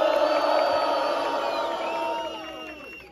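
A crowd at a battle rap event in Londrina cheers and yells loudly for a competitor after the host asks them to make noise. Voices blend into a sustained roar with whoops that slowly fades out.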